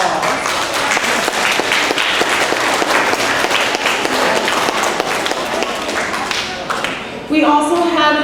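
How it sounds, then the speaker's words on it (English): Parents receive a round of applause at an elementary school spring concert, a loud, steady wash of many hands clapping that tapers slightly before a voice begins speaking over it at the end. "please give your parents a round of applause"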